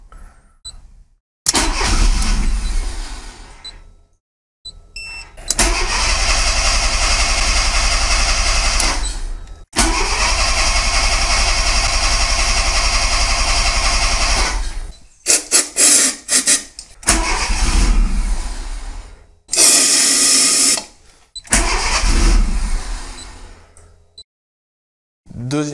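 A modified Abarth car with an EcuMaster engine controller cranks and fires repeatedly: bursts of starter whir and engine roar, several sustained runs of several seconds each, broken by abrupt cutouts and short silences, close and loud, no talking.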